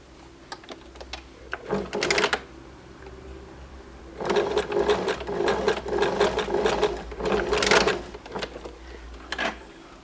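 A sewing machine runs in bursts stitching a dress side seam, with short whirring runs separated by pauses and a longer steady run in the middle, close up with no talking.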